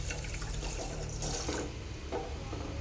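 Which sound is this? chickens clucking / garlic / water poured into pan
water poured into pan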